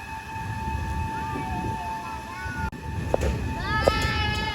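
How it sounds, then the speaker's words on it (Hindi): The Amritsar Bikaner Weekly Express enters Sri Ganganagar station with a low rolling rumble, steady tonal whine and brief squeals, while a person talks over it. "फाइनली ट्रेन को स्टेशन पर एंट्री करने का सिग्नल मिल गया"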